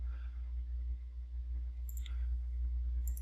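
Two faint computer mouse clicks, a pair near the middle and another near the end, sit over a steady low electrical hum during AutoCAD Civil 3D work on a computer.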